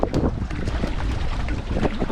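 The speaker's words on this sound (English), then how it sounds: "A little bit windy today." Steady wind buffets the microphone at a lake during a fishing outing, a continuous loud rumble with gusty swells and no talking.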